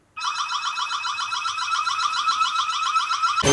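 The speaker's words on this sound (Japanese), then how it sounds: "サイレンいきます。" A small cube-shaped security camera sounds its siren alarm: a shrill, rapidly warbling electronic tone that starts abruptly and holds steady and loud for about three seconds before a sharp click cuts it off.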